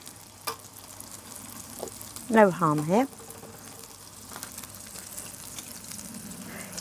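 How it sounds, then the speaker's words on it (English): Burgers fry in a pan inside a Carthago motorhome, giving a steady, quiet sizzle with faint crackles; a voice speaks briefly partway through. "that seems to be sizzling away nicely now"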